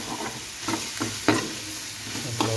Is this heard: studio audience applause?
no